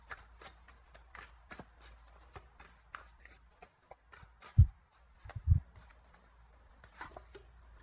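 Tarot cards being shuffled, soft papery riffles and slides repeating close by at low volume, with a couple of duller thumps midway and no speech.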